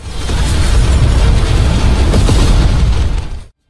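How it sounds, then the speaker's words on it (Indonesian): A giant demon bursts apart in an animated fantasy scene, a loud, dense, rumbling blast lasting about three seconds before cutting off abruptly into silence. "iblis raksasa itu langsung meledak"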